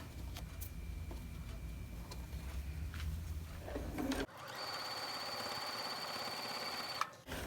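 A sewing machine stitches quilt block fabric for wonky star blocks. A steady mechanical whir runs at first, then shifts abruptly to a different higher hum with a faint tone until a brief clunk near the end.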